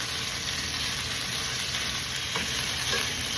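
Close, continuous sizzling of chicken searing in a pan, seasoned with black pepper for chicken in white wine cream sauce, with a few faint utensil clicks near the end.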